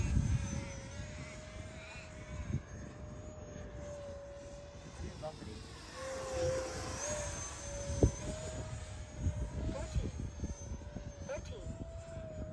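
A 50mm Viper EDF jet RC model making a banked pass under higher throttle, its ducted-fan whine holding steady then sweeping in pitch as it passes, over distant outdoor noise with a few sharp knocks.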